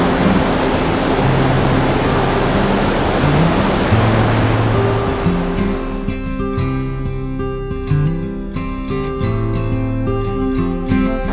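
A waterfall pours through a Wisconsin canyon in spring beneath a bridge, a loud, steady broadband rush of falling water, with a soft low tonal hum weaving under it and the roar thinning slightly toward the end.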